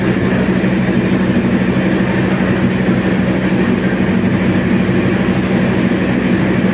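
The Argo Semeru passenger train rumbles steadily past at close range in Indonesia, a loud continuous roar of wheels and engine with no pauses.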